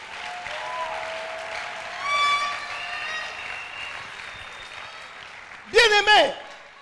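A church congregation applauds and acclaims the Lord in sustained clapping mixed with voices, swelling around the middle and rising to a louder burst of cheering near the end.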